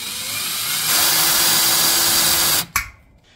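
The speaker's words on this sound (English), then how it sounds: "we're going to drill this pilot hole out" A power drill or drill press bores a pilot hole through a steel cyclekart frame rail, a loud, steady whirring grind for over two seconds that cuts off abruptly, followed by a short clunk.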